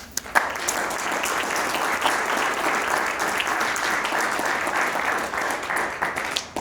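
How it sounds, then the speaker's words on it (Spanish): Audience applause at a lecture on industry as an engine of development in Cajamarca, Peru: dense, sustained clapping from a crowd, steady for several seconds before tapering off. "Un fuerte aplauso para él."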